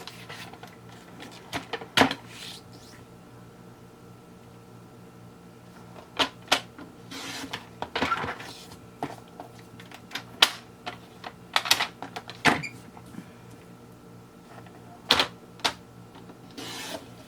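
Paper being cut for recipe journal pockets, heard as a series of sharp, irregular clicks and snips up close over a quiet, steady background hum. There is no talking.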